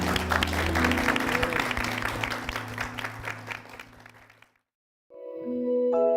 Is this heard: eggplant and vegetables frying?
no